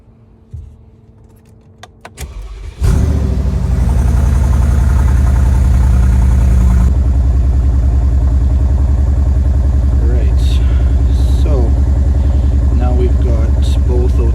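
A 2013 Mercedes G63 has just had its passenger-side O2 sensor replaced after a misfire. Faint clicks come first, then the engine cranks and fires at about the three-second mark and settles into a loud, steady, rumbling idle up close, with brief faint noises over it.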